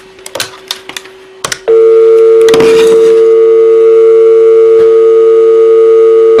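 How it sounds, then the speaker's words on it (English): A telephone dial tone sounds while phoning a mobile network company: a few clicks and handling taps, then a loud steady electronic tone holds unbroken to the end, with a brief burst of noise partway through. "I'm going to phone them now"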